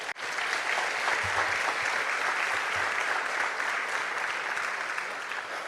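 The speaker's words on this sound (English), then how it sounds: "Give yourselves a round of applause." A convocation crowd applauds its honorees with sustained, dense clapping that fills the hall evenly from start to finish, loud and unbroken, with no voices standing out.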